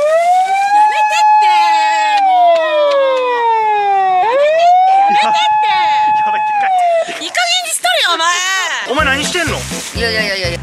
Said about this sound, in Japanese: これ鳴らしたらサイレンも鳴るぞ